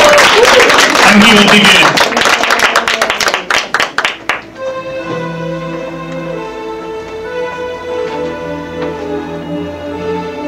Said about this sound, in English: Can I get an applause?